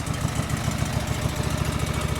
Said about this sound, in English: So I'm going to try this engine now and see if it runs worse